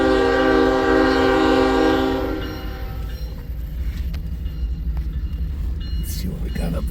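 A westbound train's horn blares loudly with strong harmonic tones for about two seconds, then cuts off, leaving the steady low rumble of the train rolling past in Missouri Valley.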